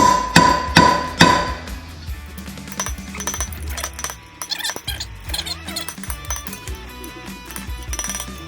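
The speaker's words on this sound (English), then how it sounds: "if you're not hammering on the race, you're not going to get it to go anywhere" Hard metal-on-metal hammer strikes on a wheel bearing race from a 4,000 pound front axle of a Cummins truck, three loud ringing blows at the start followed by lighter irregular taps and clinks.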